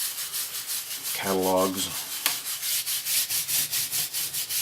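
A surgical scrub brush with its foam pad pulled off rubs and scrubs across a 12-string guitar during de-gunking, a steady run of rhythmic bristle strokes, close and fairly loud, with a brief tonal hum early on.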